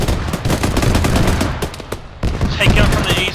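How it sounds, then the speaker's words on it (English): BMP autocannon fire in the Arma military game: a rapid burst of heavy cannon shots, loud and close, with a brief lull and a shouted voice over the gunfire near the end. "Auto cannon, get cover."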